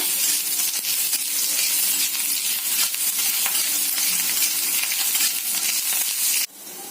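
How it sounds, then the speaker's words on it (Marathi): Cloves and ginger fry in hot oil for a Malvani black pea sambar masala, giving a loud, steady, crackling sizzle throughout that drops off abruptly just before the end. "त्यासाठी मी लवंग आणि आलं तेलामध्ये टाकते"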